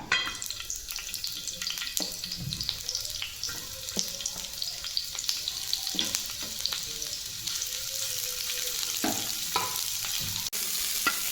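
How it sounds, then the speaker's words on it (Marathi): Onion frying in oil for chole masala, a near, bright sizzle carrying on throughout, punctuated by sharp stirring knocks and scrapes against the pan. "आता मी मसाला छान तळते सर्वप्रथम मी त्यावर तेल टाकलं आहे आणि तेल टाकल्यानंतर मी याच्यावर टाकते हा कांदा"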